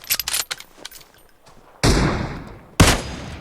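Gunfire in PUBG Mobile: a quick rattle of several shots, then two heavy booming blasts with decaying tails, loud and close with no talk over them.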